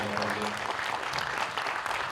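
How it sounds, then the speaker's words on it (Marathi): An audience applauds steadily at a film event, a dense, even patter of many hands, heard faintly and from some distance for about two seconds. "सरांसाठी एकदा जोरदार टाळ्या."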